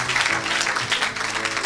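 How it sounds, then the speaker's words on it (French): A church audience claps for Jesus Christ during a deliverance service, a steady wash of applause lasting under two seconds with some voices mixed in. "Oh, acclame pour Jésus-Christ."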